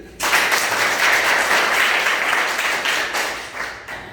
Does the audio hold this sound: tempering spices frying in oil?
no